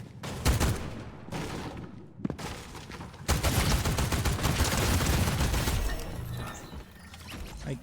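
Rapid gunfire in the video game RimWorld: dense bursts of automatic fire with brief pauses, then a longer sustained volley that fades near the end, with no voices.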